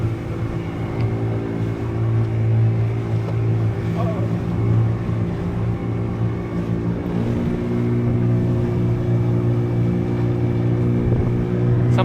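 Steady, droning engine rumble of a motorboat ferrying passengers across the water to the airport at Lamu, Kenya, continuous and close with no voices.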